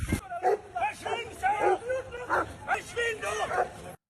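Police dogs bark and yelp at a student protest for Gaza in Stockholm, Sweden, a rapid run of loud, agitated barks mixed with shouting voices in a noisy crowd scene.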